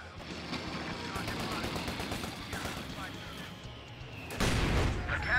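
Gunfire in the Company of Heroes 2 strategy game during a 2v2 match, dense crackling bursts running continuously under shouted soldier voices, with a heavier loud blast near the end.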